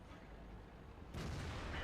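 Tank cannon fire from a Conqueror heavy tank in the World of Tanks game: one loud, broad blast partway through, its rumble lingering over a steady low background.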